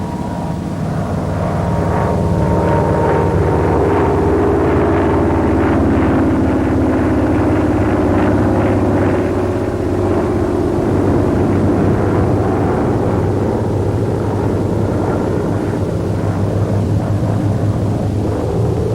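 A Vought F4U Corsair propeller fighter roars steadily overhead while flying acrobatic maneuvers such as loops, its loud engine drone swelling and holding without a break, with no voices.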